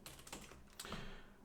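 Rapid typing on a computer keyboard, a steady run of close, light key clicks with a brief denser burst partway through, no voices.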